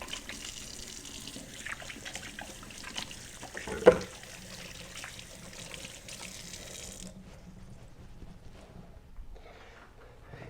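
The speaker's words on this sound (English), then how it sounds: "always wash your hands after handling ground meat. So let's rinse that off." A kitchen tap runs steadily as hands are rinsed after handling ground burger meat, a soft, even stream of water with a brief splash partway through, before it shuts off and leaves quiet.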